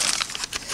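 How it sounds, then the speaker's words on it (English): Foam packing material from a seed package crinkles and crackles in a brief, close burst of dry rustling, fairly loud and with no speech. "Foam packing."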